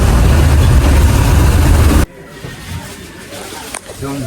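A state transport bus engine drives along a road to Amboli, a loud, dense rumble that cuts off abruptly halfway through, leaving a quieter cabin hum with faint voices.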